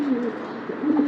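Domestic pigeons cooing inside a poorly kept cage, soft low repeated coos close by over a faint background hum.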